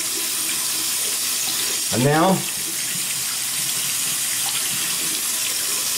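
Warm water runs from a tap onto a Zen Shave shaving brush in a short burst of about half a second, with a faint voice speaking briefly over a steady background hiss.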